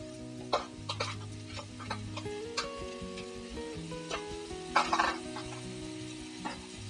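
Cumin paste sizzles in mustard oil with softened onion as a spatula stirs it, giving a steady close crackle with occasional scraping accents and no talking.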